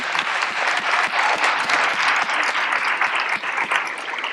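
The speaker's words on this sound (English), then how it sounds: "These military members that remain standing, we owe a round of applause to." A large audience at a state capitol senior day event applauds standing military veterans, sustained dense clapping with no voices over it.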